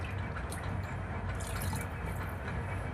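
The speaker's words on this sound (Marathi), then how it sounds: "आता ह्याच्यामध्ये तांदूळ भिजवतो तुम्हाला पाणी घालायचे" A steady stream of water splashing and gurgling as it's poured into a vessel of rice for pulao, continuous and fairly close.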